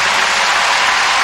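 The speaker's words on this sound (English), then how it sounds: "Listen to this crowd." A packed ice dancing arena crowd at a Grand Prix Final roars and applauds, a steady, loud, dense wall of cheering with no break across the brief moment.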